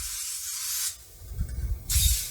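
Baking spray hisses from a can into a muffin tin in two short bursts, with soft tapping and handling noises in the brief gap between them.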